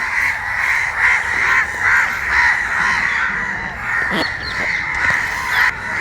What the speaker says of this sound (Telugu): కాకులు చూడండి